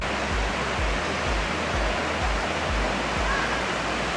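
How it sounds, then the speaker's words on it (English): A waterfall in Karijini National Park roars steadily, a dense broadband rush of falling water that stays loud and even throughout, with no voices. "Some beautiful waterfalls,"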